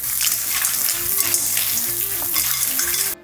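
Loud, steady sizzling and crackling of mussels frying in hot olive oil in a pan, continuous for a few seconds before it cuts off abruptly.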